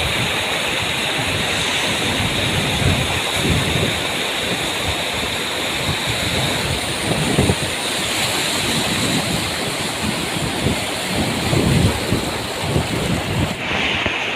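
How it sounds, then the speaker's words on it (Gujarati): Water rushes fast over a full village dam, a loud, dense, continuous roar of flowing water with steady broadband hiss and no talking. "તો પાણીનો પ્રવાહ ફૂલ છે"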